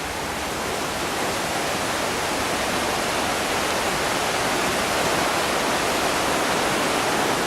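River roaring past below Chimney Rock, a steady loud rush of white water filling the whole span without a break.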